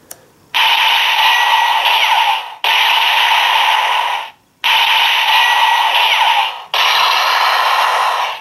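Four sustained electronic bursts, each about two seconds long with short gaps between them, loud and close, from a Full Bottle Buster toy sword sounding in blade mode, with no one speaking.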